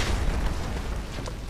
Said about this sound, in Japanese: 爆発が派手すぎねえか。